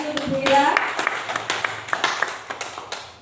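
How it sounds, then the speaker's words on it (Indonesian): Audience at a seminar session clapping for a presenter, a scattered burst of hand claps over several seconds with a speaking voice over the start. "Mohon tepuk tangannya sekali lagi untuk Ibu Ira."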